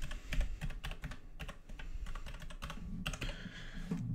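Computer keyboard keys tapped close by while a short command is entered, quick irregular clicks in small bursts with brief pauses and no voices.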